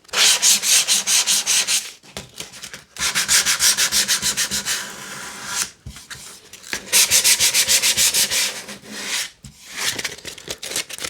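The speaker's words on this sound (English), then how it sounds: "let's focus on this top edge and see how smooth we can get it after rubbing it down a bit" Hand sanding along the primer-coated top edge of an MDF board, loud rhythmic rasping strokes in bursts with brief pauses between them, close up and alone.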